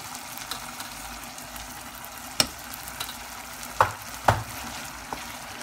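Ground beef mince sizzles steadily in a pan with cumin for chilli con carne as it is stirred in, with a few sharp spoon knocks against the pan over the constant frying hiss.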